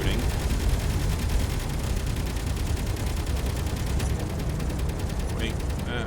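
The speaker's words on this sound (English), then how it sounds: "now they're shooting" Continuous gunfire crackles in the space survival game Space Engineers, a steady dense rattle of shots holding at an even loudness throughout, with some faint mechanical clicks toward the end.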